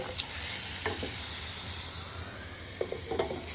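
Chopped snake gourd cooking in a pan with salt and curry leaves, a soft steady sizzle with a few scraping stir strokes near the start and a cluster of quick scrapes toward the end.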